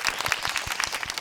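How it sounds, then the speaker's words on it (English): A brief burst of applause, many hands clapping in a quick, dense patter for just over a second. "Editor, instant applause sound."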